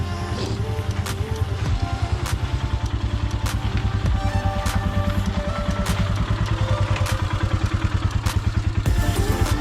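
A rented motorcycle's engine thrums steadily with a rapid, even pulse as it rolls downhill toward a parking area in Kurseong near Darjeeling, the rider's machine close and continuous throughout.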